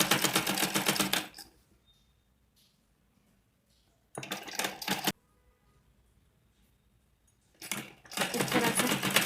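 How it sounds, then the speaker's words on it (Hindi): Sewing machine stitching the inside seam of a one-piece dress, running in loud, fast rattling bursts: a long run, a short burst, then another long run, with quiet pauses between. "स्टिच कर लेना है।"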